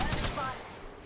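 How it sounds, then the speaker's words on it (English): Gunfire during an Apex Legends match, a rapid burst of shots up close in the first half second that fades into a steady low rumble, with no voices over it. "Being shot at."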